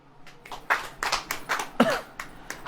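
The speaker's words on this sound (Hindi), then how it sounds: "ताली बजाओ" An audience at a church worship gathering claps hands in a sparse, uneven patter, individual claps audible rather than a full roar, moderately quiet and lasting a few seconds.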